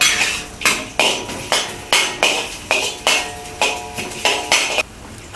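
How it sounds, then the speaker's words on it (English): Ginger and garlic are sautéed in a pan over low heat, with a spatula clanking against the metal about a dozen times in a quick, even rhythm, each stroke sharp and close. "Saute the ginger and garlic over low heat until aromatic."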